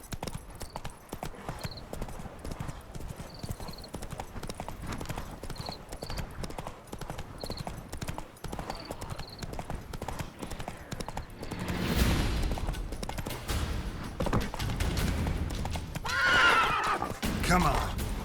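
Roach, the horse in The Witcher 3, trots with a steady clip-clop of hooves that runs throughout, then gives a loud whinny near the end, over a background of game sounds.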